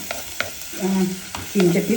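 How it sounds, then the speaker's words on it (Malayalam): Two kinds of crushed onion sizzle in hot coconut oil in a clay pot while a utensil scrapes and taps the pot in short, irregular strokes, close by. "ചട്ടിയിലെ വെളിച്ചെണ്ണ ഒഴിച്ചു മൂത്ത് കഴിഞ്ഞപ്പോൾ രണ്ട് തരം ഉള്ളി ചതച്ചതിട്ടു"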